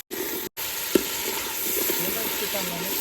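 Onion and tomato paste fries as a tempering for brinjal curry, a steady close sizzle with one sharp tap near the start and soft stirring scrapes throughout.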